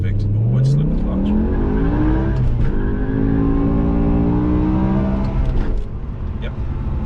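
A BMW M6 with its V10 launches hard from a standstill in a 0-100 km/h run, the engine note climbing steeply through the gears with a clear shift break, loud and close, with a voice speaking briefly over it.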